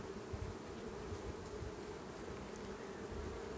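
Honeybees on a hive frame of a colony being checked, a faint, steady buzzing hum with soft background noise and no talking.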